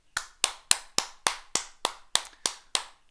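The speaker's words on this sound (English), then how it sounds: "One final earth-shattering applause before I send you off to the inferior division" Ten sharp, evenly spaced claps from a single person, close and clean with near silence between each.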